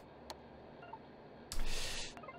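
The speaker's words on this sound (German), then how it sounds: "Telefon, genau, das widerlich pinke Gerät hier," Telephone dialing in The Sims 2 plays over a soft game background: a brief tone early on, then a bright, loud burst of dialing tones about halfway through that lasts almost a second.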